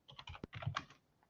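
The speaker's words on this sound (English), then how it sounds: "I can hear someone typing." Fingers tap out a brief burst of typing on a computer keyboard during an online webinar, a quick run of clicky keystrokes at moderate closeness with no voices over it.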